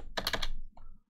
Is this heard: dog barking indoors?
no